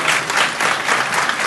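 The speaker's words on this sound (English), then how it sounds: "So can we give Global Fund a round of applause?" Audience at a sex workers' dialogue event applauding Global Fund, a loud, close, dense wall of clapping throughout the short stretch, with no talking over it.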